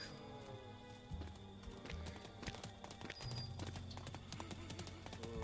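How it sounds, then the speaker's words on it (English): Galloping horse hooves in the video game Gloomy Eyes, a steady rapid clip-clop rhythm running throughout over a layer of background music. "That sounds like a horse galloping."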